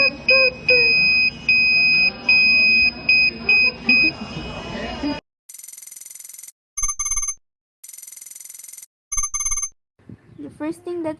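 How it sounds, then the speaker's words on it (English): An Arduino buzzer wired on a breadboard sounds a series of short, loud electronic beeps in an on-off pattern each time a button is pressed, followed by sharper bursts and a brief trailing sound. "When we pressed the button, the buzzer made a sound."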